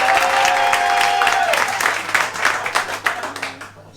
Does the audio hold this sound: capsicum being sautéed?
no